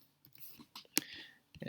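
A computer mouse gives a single crisp click amid soft, faint room and mouth noises.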